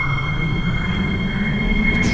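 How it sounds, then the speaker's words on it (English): An airport line train at a platform hums with a steady rail rumble and a high electrical whine, the sound continuous and moderately near. "The train is about to depart"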